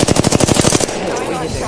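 A rapid automatic gunfire burst in the video game Apex Legends: loud, fast, evenly spaced shots for under a second, then an abrupt stop leaving a faint fading tail.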